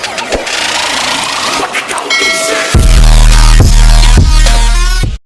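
A jackhammer's engine sputters through rough noise, then catches about halfway and runs loud and steady with a strong low drone and rhythmic pulsing until it cuts off at the end.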